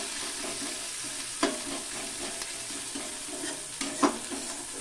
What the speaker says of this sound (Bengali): পেঁয়াজটাকে এবার আমি একটু হালকা ভেজে নিব